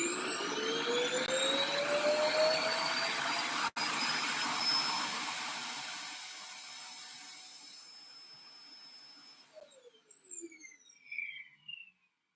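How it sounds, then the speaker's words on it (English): Robotic vacuum cleaner returning to its base, a steady whirring motor hum with a rising whine that fades out, followed by a few short electronic chirps and beeps near the end. "I hate this robotic vacuum cleaner because of that right there."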